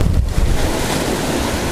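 Strong coastal wind roars and buffets the microphone on rocky shoreline in Hawaii, a loud, continuous broadband rush mixed with surf and no talking.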